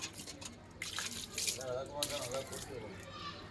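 Water poured and splashing while someone washes outdoors in the morning, a steady wet spatter with a few louder gushes, close by, under people talking.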